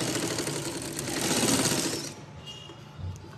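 Close, rapid mechanical chatter of a sewing machine stitching a boat neck on a garment, running for about two seconds before stopping and leaving faint handling sounds.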